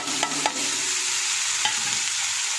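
Capsicum fries in hot oil in a wok with a loud, continuous sizzle. A few brief stirring knocks break through it.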